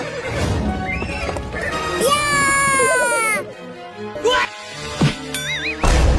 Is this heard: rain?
no